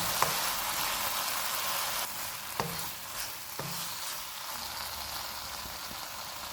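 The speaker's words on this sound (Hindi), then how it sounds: "इनको 4 से 5 मिनट तक भूनेंगे।" Ground spices like garam masala, crushed black pepper and red chilli powder sizzle steadily in a hot pan for chicken pasta, with a few sharp scrapes of a spoon stirring through the constant frying hiss.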